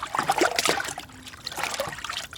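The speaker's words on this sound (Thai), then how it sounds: "ตักใส่กระบวยนึงก็มาใส่เงี้ยแล้ว รดราดไป" Fermented liquid fertilizer made from food scraps is ladled and poured onto garden plants, giving uneven splashing trickles in two short bursts.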